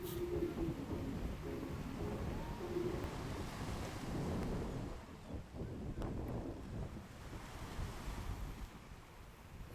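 Ocean surf washing onto a palm-lined beach at Mombasa, a steady broad rush of waves mixed with wind noise, continuous and fairly loud.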